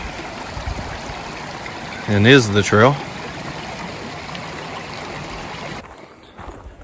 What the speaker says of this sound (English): We found where the waterfall crosses the trail